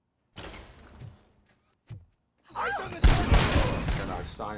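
A mechanical door slides open in RoboCop: Rogue City, a loud broadband whoosh and clatter that follows a brief voice and a few short knocks, with heavy game effects continuing underneath.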